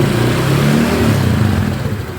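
A Honda Vario 125 scooter engine, just started with its kick starter after CVT work, runs close by with a loud, slightly uneven mid-pitched rev that eases off toward the end.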